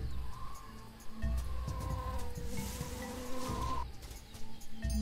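Insect buzzing rises and falls over a busy jungle ambience in the video game Tales of Monkey Island, with chirping birds and low rumbling sounds blending in at moderate volume.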